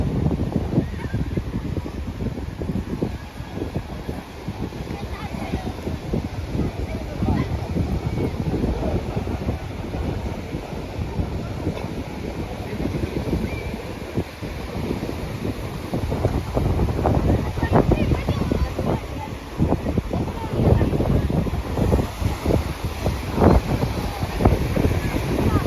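Wind buffets the microphone on the seaside beach at Dzhemete, with surf washing steadily in the background, continuous and fairly loud.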